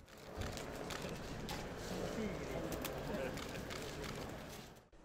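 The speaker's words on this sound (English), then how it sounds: "In another part of the city, white doves were released as a sign of peace." White doves released as a sign of peace in Najaf, Iraq, during a papal visit, cooing amid a dense outdoor crowd din and fluttering, with voices talking throughout.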